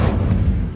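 A fire spell cast in Hogwarts Legacy, a short, loud, booming burst with a low rumble that fills the whole moment, alone with no voices.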